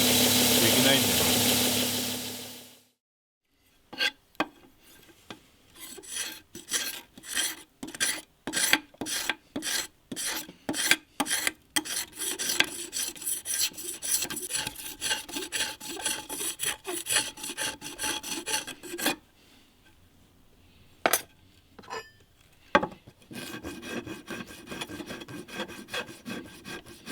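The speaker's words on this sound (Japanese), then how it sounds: "細かい作業はやっぱり手作業でやらないとできないんで" A craftsman hand-files a traditional Edo bamboo fishing rod, making long repeated rasping strokes that come close and steady, broken by short pauses and a brief engine-like noise at the start.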